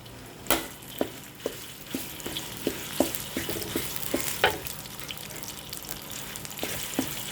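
Curry paste for a wild boar stir-fry sizzles in a pan over low heat, with a soft continuous fry and a regular series of sharp scraping taps from the spatula as it is stirred, close and moderately loud.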